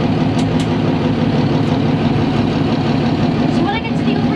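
A full-size train engine runs under partial throttle with a steady, loud low drone throughout, while voices speak over it in the cab.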